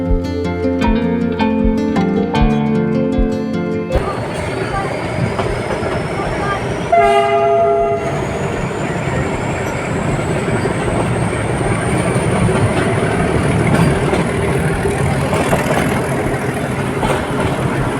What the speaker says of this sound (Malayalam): 7:45 തന്നെ നമ്മുടെ ട്രെയിൻ ഊട്ടിയിലേക്കുള്ള യാത്ര തുടങ്ങി